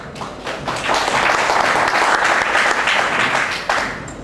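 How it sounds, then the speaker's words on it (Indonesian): Audience applause at a political party youth wing inauguration in Aceh, a steady, fairly loud round of many hands clapping that holds for several seconds. "Jangan tepuk tangan dulu."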